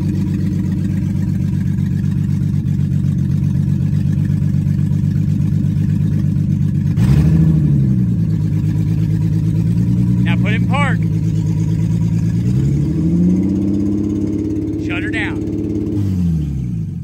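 A Lexus SC300 engine idles loudly and steadily, then revs up briefly a couple of times as the car creeps forward under its own power, with short bursts of nearby voices over it.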